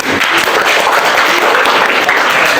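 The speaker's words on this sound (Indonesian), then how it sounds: "Oke, tepuk tangan." Children clapping together in an elementary classroom lesson, a loud, dense burst of applause filling the room for a couple of seconds with no talking over it.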